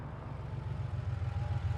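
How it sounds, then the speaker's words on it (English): A car passes in the video game The Painscreek Killings, a steady low engine rumble with a gently pulsing rise in loudness over under two seconds, heard alone without talk. "I hear a car."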